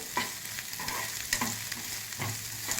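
Six green chillies fry in oil in a pan for a ridge gourd peel chutney, giving a steady close sizzle with scattered crackles and a few soft stirring clicks, no voices.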